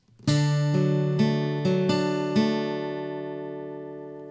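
Acoustic guitar notes hybrid-picked one after another in a slow arpeggio on an open C shape, letting the strings ring together into a sustained chord that gently fades.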